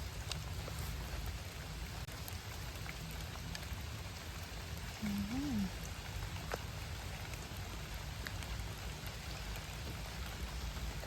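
Steady rain falling in a forest, a soft continuous hiss of drops on leaves and ground with scattered distinct taps, fairly faint and even throughout, with a brief faint bird-like chirp in the middle.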